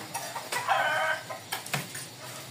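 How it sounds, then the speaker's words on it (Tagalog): Chickens cluck and squawk while being chased, with a burst of agitated clucking in the middle and scattered short calls and bumps around it at moderate distance. "Mga habol nga manok"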